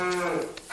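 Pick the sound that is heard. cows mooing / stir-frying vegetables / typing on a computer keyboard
cows mooing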